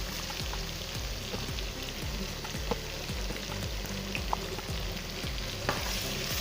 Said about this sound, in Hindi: अब हम इसके अच्छे तरीके से भुनाई करेंगे टमाटर नरम होने तक